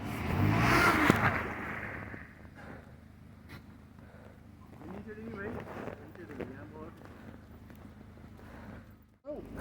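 A car engine revs up loudly for a moment as the vehicle slides back on a frozen, snow-covered road, then settles into a low idle under wind noise and people talking.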